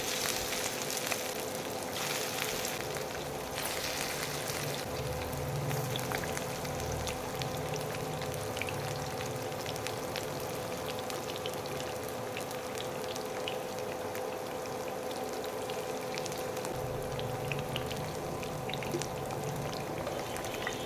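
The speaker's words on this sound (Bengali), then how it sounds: "ফ্রাই প্যানে তেলটা গরম হয়ে গেলেই আমি একটা একটা করে পাকোড়া এর মধ্যে দিয়ে দেবো" Small kachki fish pakoras fry in hot oil in a frying pan, giving a soft, even bubbling sizzle that runs steadily at a low level throughout.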